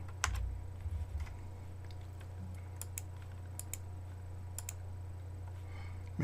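Computer keyboard keys clack in scattered, irregular presses and short bursts while someone edits image layers, quiet and close, over a low steady hum with no talking.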